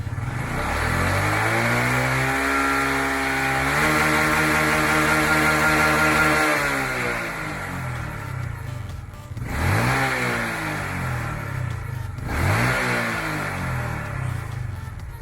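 A Honda Wave 125i motorcycle engine revs up and holds high, then drops, followed by two more quick throttle blips, close and loud.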